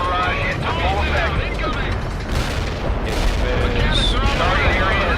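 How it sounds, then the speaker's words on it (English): Artillery barrage in the war game World in Conflict, a dense continuous rumble of booms and blasts filling the whole stretch at steady loudness, with voice chatter running over it. "Artillery barrage into full effect."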